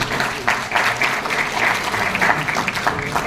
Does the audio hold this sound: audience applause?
yes